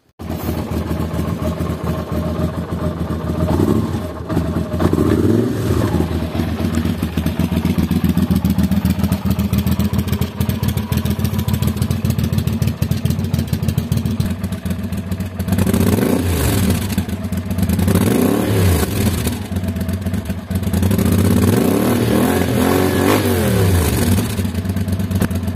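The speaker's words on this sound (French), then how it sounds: "on va la faire démarrer pour écouter le bruit avec la deuxième chicane du coup que j'ai installée à l'instant" A motorcycle fitted with a second exhaust baffle starts up and idles with a steady mechanical clatter, then is revved several times in loud, rising bursts, close by.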